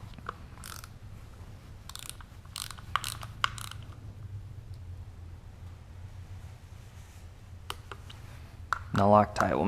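A ratchet clicks in short bursts while bolts with metal inserts are tightened to torque spec during a 2013–2019 BRZ, FR-S, 86 engine swap, close and intermittent, with a louder mechanical rattle near the end.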